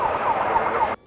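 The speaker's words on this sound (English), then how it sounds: "Sirens." A wailing warning siren sounds during the 2023 SNORE Midnight Special off-road desert race, loud and steady with a rising-falling tone, then cuts off abruptly just before the end.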